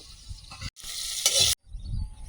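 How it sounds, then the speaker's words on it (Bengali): Okra fries in oil in a wok, giving a bright, close sizzle that swells and fades, broken by two brief silent cuts. No one speaks. "ভেন্ডিটা ভেজে নেব"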